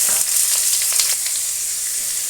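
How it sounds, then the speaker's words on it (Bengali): Potato and sweet potato pieces fry in hot ghee, making a loud, close, continuous sizzle with faint crackles and a few soft stirring sounds, with no one talking. "এবার দিয়ে দিলাম কেটে রাখা মিষ্টি আলুর টুকরোগুলো।"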